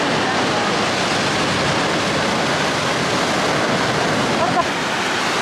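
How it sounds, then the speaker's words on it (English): Big ocean waves on the Madeira coast, a loud, steady roar of surf that fills the whole scene, heard from above with wind and no break. "I see very big waves down there."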